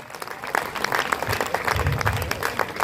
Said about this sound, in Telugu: head of section top to bottom అందరికి కూడా చప్పట్లు కొట్టవలసింది మీకు మనం చేస్తున్నాం